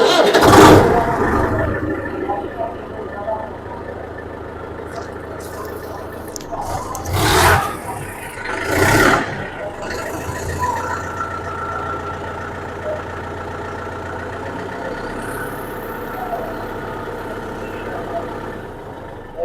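A Kartar tractor engine starts, then idles with a steady, close, low diesel rumble, broken by a few louder bursts early on.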